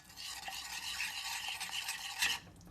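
A soft, continuous scraping and swishing of a utensil stirring in a pot, with faint sizzling underneath and no voices.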